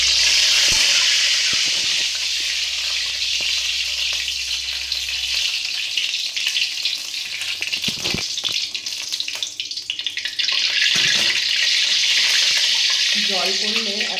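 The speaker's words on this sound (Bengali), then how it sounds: "জল পড়লে এত চটর পটর করে" Hot oil sizzling and crackling steadily in a wok as water drips in, ready for frying tilapia pieces; a continuous, close, bright frying hiss with a brief voice near the end.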